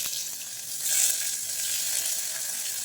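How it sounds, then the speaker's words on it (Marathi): Onion frying in hot oil with whole spices, a dense steady sizzle up close that briefly swells louder, with no one talking. "खडे मसाले टाकल्यानंतर कांदा ॲड करून द्यायचा"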